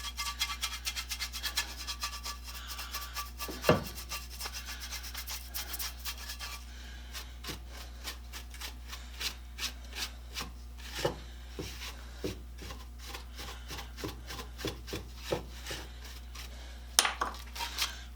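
Dry rhythmic rasping of a metal rebate plane sole scrubbed across 120 to 150 grit sandpaper, steady strokes at first, then scattered light scrapes and taps, close and fairly quiet.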